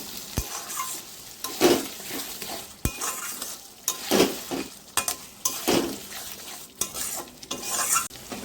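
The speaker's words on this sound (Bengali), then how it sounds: "এখন আমি এখানে টক দইটা যে ফেটিয়ে রেখেছিলাম সেই দইটা এখানে আমি দিয়ে" Whisked sour curd is stirred into pointed gourd curry in a hot pan, giving faint sizzling with repeated scraping strokes and light clinks of a spoon against the pan, no voices.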